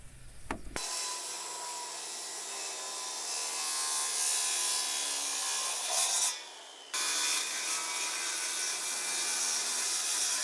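Wooden deck bearers being cut on a new-build deck, heard as a steady, close rasping saw noise that runs almost unbroken, with one short break partway through.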